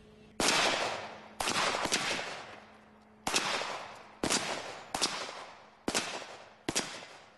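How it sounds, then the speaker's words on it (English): Handgun rounds of various calibers fired at a propane tank: seven loud, sharp cracks, each with a ringing decay, spaced unevenly over several seconds, some bunched close together. "But what happens if you get multiple shots all at the same time?"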